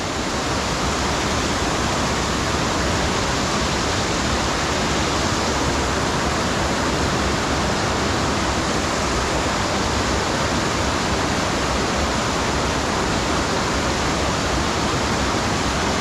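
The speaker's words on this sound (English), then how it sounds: "look down where the waterfall is dropping down" A waterfall at Harmby roars steadily and loudly, a dense unbroken rush of falling water that fills the whole scene without pause.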